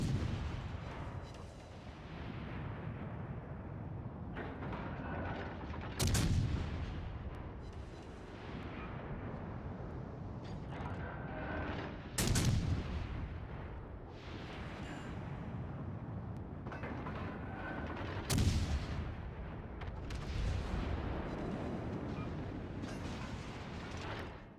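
Tank cannon shots from a video game ring out in three loud, sharp blasts roughly six seconds apart, each one standing over a steady rumbling battle din.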